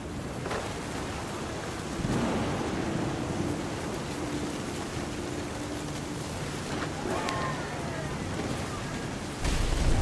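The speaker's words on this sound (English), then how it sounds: "The thunder sounded much too close and full of angry power." Deep thunder rumbling in What Remains of Edith Finch, a low, steady roar near a beach by the sea, with a heavier surge partway through and another near the end.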